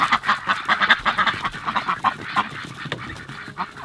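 Ducks on a homestead being herded to bed at night, a close, busy chorus of quacks and honking calls in a rapid uneven rhythm with no talk.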